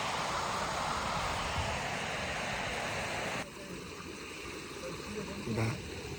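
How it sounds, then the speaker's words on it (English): A mountain stream on the climb toward Grisedale Tarn above Grasmere rushes steadily nearby, a broad, constant wash of flowing water that drops slightly in level partway through. "Sound of the water."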